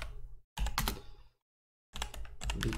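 Computer keyboard typing while writing code for a Nim programming lesson, heard as two dense bursts of rapid clicking keystrokes separated by a silent pause, close and clear with no talking.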